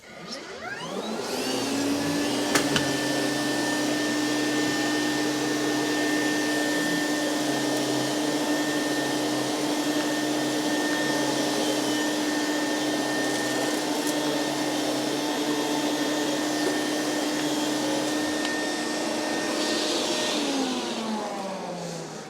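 A loud Rainbow E2 vacuum cleaner with power nozzle roars steadily for about twenty seconds after spinning up, with a high whine over the motor drone, then winds down at the end.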